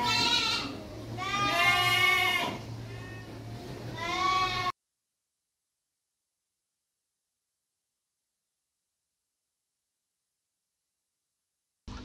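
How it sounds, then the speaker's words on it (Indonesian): Dorper sheep on a farm bleating: a few loud, wavering calls in close succession over the first five seconds, then near silence for the rest. "Domba dorper merupakan jenis bangsa komposit yang berasal dari Afrika Selatan."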